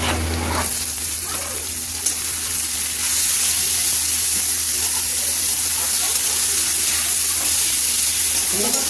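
A steady, loud sizzle comes from onion masala frying in a pan after chopped tomatoes go in. The hiss runs continuously and stays close throughout.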